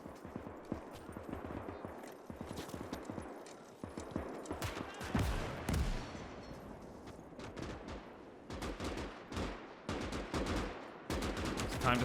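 Machine-gun fire in the Gates of Hell WWII strategy game, repeated rapid bursts and scattered shots of varying distance across a battlefield, irregular rhythm with short pauses between volleys.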